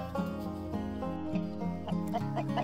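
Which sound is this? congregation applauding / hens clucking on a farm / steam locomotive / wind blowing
hens clucking on a farm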